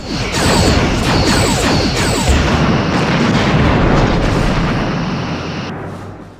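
Starship weapons fire pounding a half-damaged outpost in the space game Star Trek: Bridge Commander: loud, dense rumbling blasts with sharp repeated bursts, sustained for several seconds before fading out.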